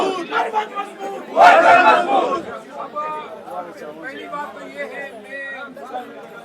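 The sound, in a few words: crowd chanting political slogans at a rally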